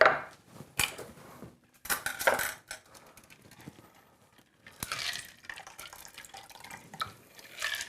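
Liquid splashes and pours into glasses as a fresh, light summery cocktail is served in a kitchen, with drips, clinks of glassware and short bursts of pouring separated by pauses, fairly close and alone without talk.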